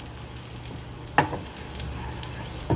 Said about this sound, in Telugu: రైజిన్స్ ఫ్రై చేసుకుందాం, తర్వాత మన క్యాష్యూ ఫ్రై చేసుకుందాం.